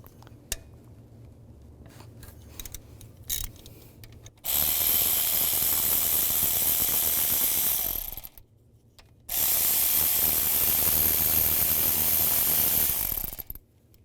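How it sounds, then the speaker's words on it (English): A ratchet with a 10mm socket spins out bolts from the timing chain tensioner of a 2002-2009 Chevy Trailblazer, two loud sustained bursts of rapid clicking separated by a short pause, close up with no talk. "Take this tensioner off, use a 10mm socket,"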